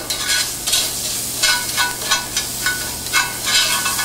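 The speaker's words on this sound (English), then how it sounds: "So I'm sauteing the onions with the fond. I'm scraping it off as I'm going." Onions sauteing in a pan while the browned fond is scraped from the bottom, a loud close sizzle broken by quick rhythmic scraping strokes, several in a row over a few seconds, with no speech.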